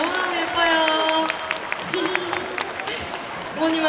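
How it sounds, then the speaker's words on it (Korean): Concert audience applauding a teenage fan at a tour show in Cheongju, a dense steady wash of clapping with cheers and voices mixed in throughout. "우리 10대 친구에게 박수"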